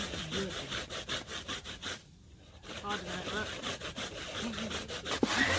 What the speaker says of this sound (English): So once the coconut's been extracted, they'll be grating it just like that.